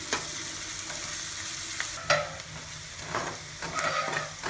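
Onions and curry leaves fry hard in a pan for crab fry, a loud broadband sizzle with several sharp stirring scrapes and clinks along the way, close up and without talk.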